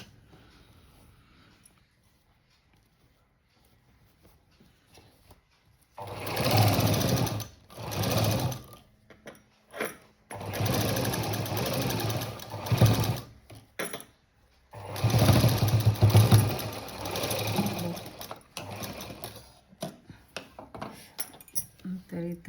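A sewing machine stitches a cut work blouse design in several loud bursts of rapid whirring, separated by short pauses and handling clinks, after a quiet start.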